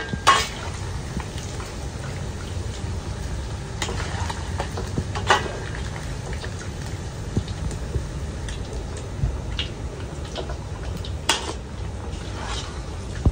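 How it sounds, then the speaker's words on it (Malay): Ingredients are sautéed in a pan, a continuous sizzle broken by clinks and scrapes of the utensil against the pan as the food is stirred. "Tumis dulu bahan-bahannya."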